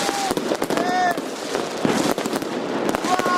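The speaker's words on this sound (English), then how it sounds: "Devastating explosions." Explosions in footage of a destroyed city centre, with repeated sharp crackling blasts that carry over a dense, noisy background across the whole stretch, along with talk and a few whistling tones.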